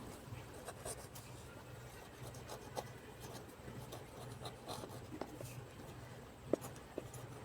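Pen scratches across a page as a math worked example is written, faint and close, with continuous soft rubbing strokes and a few light taps.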